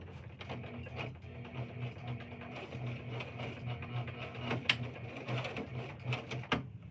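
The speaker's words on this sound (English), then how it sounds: "I'm gonna start sewing it" A sewing machine stitches fabric, a faint, steady mechanical whir with a low repeating hum and light rhythmic ticking, quiet and continuous without talk.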